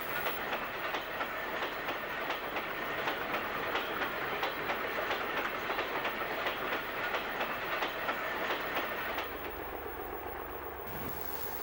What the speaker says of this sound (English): There are no less than 56 wagons on this train.